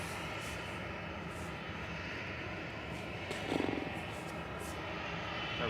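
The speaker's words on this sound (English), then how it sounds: "Our first heavy departure of the day will be coming up shortly. Good, 787-9 Dreamliner heading back to Doha." A Qatar Airways Boeing 787-9 Dreamliner heavy jet departing Manchester Airport for Doha gives a steady distant engine roar, with a brief burst of nearer noise midway and no speech.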